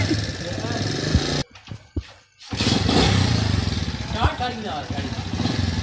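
A motorcycle is ridden during a bike-riding lesson. Its engine runs loud and close, drops out briefly with a few thuds, then resumes steadily while people talk over it.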